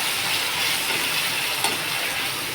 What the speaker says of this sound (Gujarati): આપણે હવે ટમાટર નાખી દીધા. વાવ, સરસ તડકો થયો.